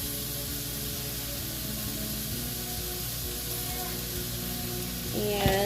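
Onions with granulated garlic sauteing in a pan for a chicken pot pie casserole give a steady, close sizzle and hiss that holds level throughout, with a brief stir or clatter near the end.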